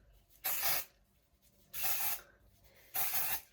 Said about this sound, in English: I'm just going to put a little bit of texture spray through